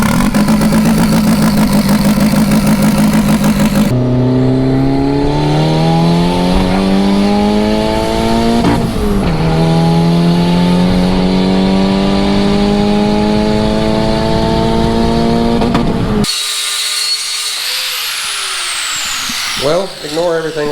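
An old car's engine runs loud and close, its pitch climbing through repeated revs before it cuts off abruptly, leaving a quieter tail with a brief clatter.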